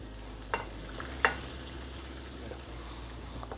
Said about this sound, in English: As you can see, they're really slow fry right now.